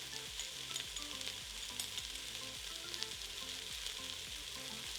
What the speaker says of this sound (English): we'll stir that around and just let it saute for about a minute